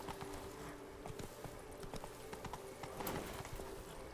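Horse Roach galloping in The Witcher 3 video game, steady clip-clop of hooves at a quick rhythm, close and moderately loud, with a brief louder scuffle near the end and no talking.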